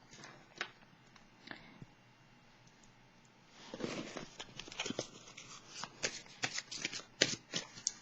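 Cards are drawn from a deck in a quiet room: faint isolated clicks, then a flurry of crisp flicking and sliding card sounds in quick irregular bursts.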